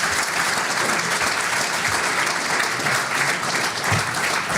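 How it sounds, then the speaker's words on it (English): Conference audience at a Highlands and Islands green energy event applauding, a dense, steady round of clapping from a large room that continues evenly throughout without voices. "Can we get a round of applause?"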